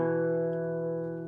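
Irish bouzouki picking a short group of three jig notes, bright ringing metal strings with sustained overtones, close and fairly quiet, the last notes fading out.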